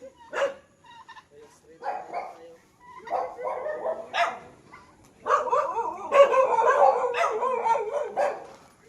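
Several dogs bark in bursts nearby, overlapping and growing busier, with people talking in the background.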